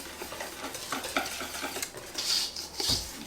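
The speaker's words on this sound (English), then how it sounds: "So we're going to stir all this together." Cake batter for a chocolate bourbon cake being stirred in a bowl, a close, soft scraping and swishing with a few light clinks, steady throughout.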